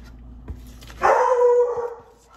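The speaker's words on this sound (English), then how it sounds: "Excuse the barking." A dog lets out a single loud, drawn-out bark that rises into a short howl, close by in a quiet indoor setting, with a faint thump beforehand.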